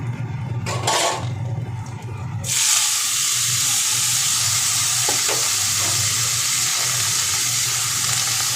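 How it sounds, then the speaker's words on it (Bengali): Panch phoron, dried chillies and bay leaves hitting hot oil, a sudden loud hissing sizzle after a few quiet handling sounds, then holding steady and close with an occasional faint clink, no voices. "5 ফোড়ন, শুকনো লঙ্কা, তেজপাতা। তো এগুলো দিয়ে ফোড়ন দিয়ে নেব।"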